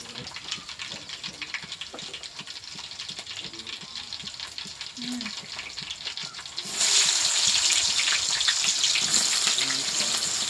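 Onions fry in a pan over cumin seeds, a steady broadband sizzle that jumps noticeably louder about two-thirds of the way through and continues, close to the microphone.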